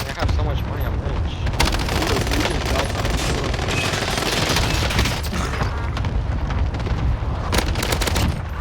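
Rapid gunfire in a video game, a dense continuous barrage of shots and booms filling the whole stretch at steady loudness, with a voice talking over parts of it.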